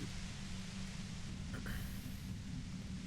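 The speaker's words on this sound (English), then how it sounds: "You hear through the white noise. It's especially bad suddenly." A steady hiss of white noise from Disco Elysium fills the whole stretch, even and unbroken, with a brief, faint flicker partway through.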